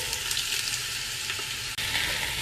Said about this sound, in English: I'm going to put the onions and garlic in the oil.